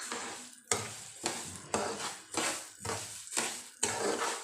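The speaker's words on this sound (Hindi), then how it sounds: "चीनी को चम्मच चला दिया है मैंने" A spoon stirring sugar into semolina halwa in a pan, scraping in about seven regular strokes with a soft sizzle beneath, close and moderately loud, with no talking.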